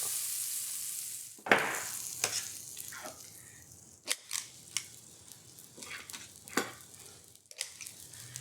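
Gluten-free lemon ricotta pancake batter landing on a hot griddle: a burst of sizzling as batter hits the surface, then quieter frying with scattered spatula taps and scrapes, all fairly close and without talk.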